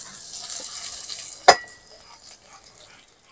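Chopped tomato tipped into onions frying in oil, a soft sizzle with one sharp clatter as the pieces drop in, then a fading hiss.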